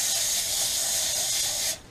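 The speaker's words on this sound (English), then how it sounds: "Some cooking spray" Cooking spray hisses from a can onto aluminum foil lining the bottom of a NuWave mini oven, one continuous close, loud aerosol spray that stops abruptly near the end.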